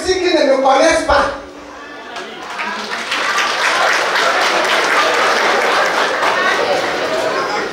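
A comedy stand-up crowd bursts into applause and cheering right after someone speaks, a loud sustained mass of clapping with some chatter mixed in.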